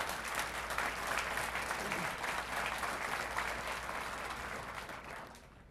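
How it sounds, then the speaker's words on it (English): Audience clapping at a fire recruit graduation ceremony, a full, even wash of many hands that holds steady and then tapers off gradually near the end. "Give them a round of applause."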